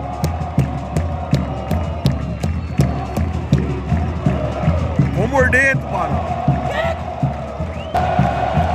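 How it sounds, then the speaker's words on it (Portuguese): Football supporters of Londrina roar and cheer throughout a packed stadium, a dense, loud crowd with rhythmic chanting and drumming, with nearby voices shouting over it. "A torcida se levanta a apoiar o Londrina, tanto na cadeira quanto no estádio inteiro."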